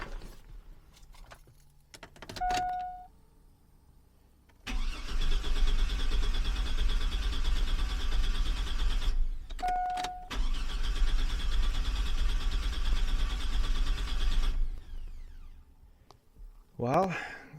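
A Chevy truck engine cranks repeatedly without catching, two long whirring bursts of several seconds each, loud and close, with key clicks and a chime sounding before each attempt.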